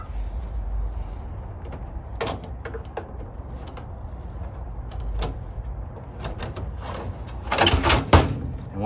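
Metal drawers slide back into a vintage Craftsman tool box with scattered clacks and rolling scrapes, ending in a louder burst of metallic sliding and a final knock near the end.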